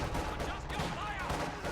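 Dense gunfire and explosions from a war video game battle against infantry in cover, a continuous loud barrage with voices shouting over it.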